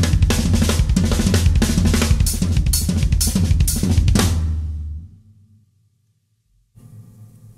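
A punchy drum kit plays a steady medium-tempo groove with kick and snare hits, then decays into silence before a faint low hum returns.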